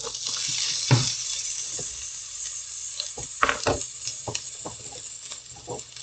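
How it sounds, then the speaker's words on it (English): Onions sizzle and fry in a pan for spaghetti meat sauce, a steady hiss with scattered sharp crackles and stirring clatter. "It sounds like it's making some noise in my pan. So I'm going to put the onions in."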